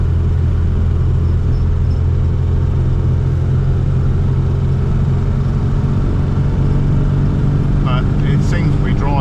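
A classic Mini, a budget-restored car on its first drive, with a steady low engine rumble and drone from inside the cabin while cruising, continuous throughout, with a few brief chirps near the end.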